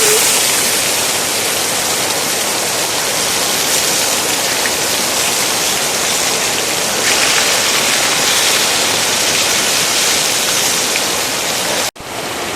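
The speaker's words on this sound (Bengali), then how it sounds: "এই কিছুক্ষণের মধ্যেই আমাদের বৃষ্টি শুরু হয়ে গেল" Heavy rain pours down outdoors in a dense, unbroken roar of water that stays loud and even for the whole stretch, cutting out for a moment near the end.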